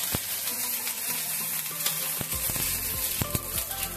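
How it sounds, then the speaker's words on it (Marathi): Green chillies sauté in hot oil over a medium flame, a dense steady sizzle and crackle with occasional scraping of a spatula across the pan, close and continuous, with no one speaking. "2 मिनिटांसाठी असं आपण परतून घ्यायचं आहे या मिरच्यांना मीडियम फ्लेमवरती।"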